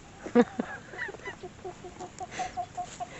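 Young pullets cluck and call inside a shed, with a louder burst near the start and then a run of short, fairly close clucks and chirps. No one speaks over them.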